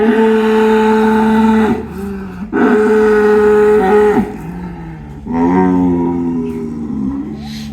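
Large Friesian bull at a Savar dairy farm bellowing loudly and close, three long deep drawn-out moos separated by short breaks, with no talking over them.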